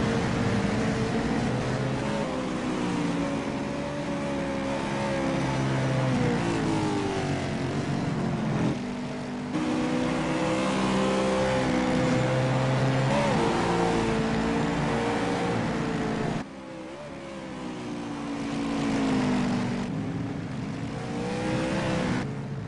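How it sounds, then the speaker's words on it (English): Race cars at Infineon Raceway rev and roar continuously as they leave the pits, a loud sustained engine drone with rising and falling pitch as cars pass. "we have another car coming out of the pits"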